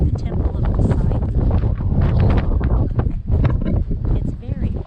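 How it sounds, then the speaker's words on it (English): Strong wind at Cape Sounion buffets the microphone with heavy low rumbling gusts while people talk close by throughout, the wind noise largely mixed under the voices. "It's very, very windy."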